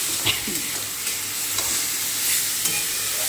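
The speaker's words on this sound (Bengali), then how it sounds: "খুব ভালো করে ভেজে নিচ্ছি" Carrot, capsicum and tomato masala fries in oil in a covered pan, a dense continuous sizzle with occasional soft stirring clicks, close and loud, no talking.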